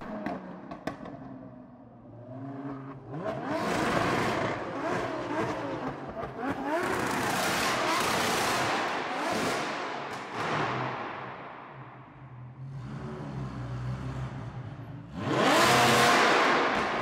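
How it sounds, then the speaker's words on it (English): A powerful Lamborghini sports car engine roars and revs, rising and swelling as it passes close by, then a second loud surge near the end. "show you this absolutely unbelievable Lamborghini"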